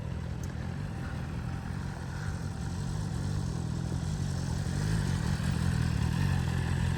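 A motorcycle in a slow-speed cone challenge, a naked bike against a superbike, holds a low, steady engine rumble as it rides a big left U-turn, moderately distant and even in level with no talking.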